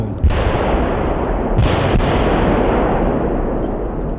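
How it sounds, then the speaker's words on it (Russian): Dull booms of distant artillery shelling sound over a steady rumbling background, with a couple of sharper thuds standing out. "Сидим вот, пережидаем обстрел."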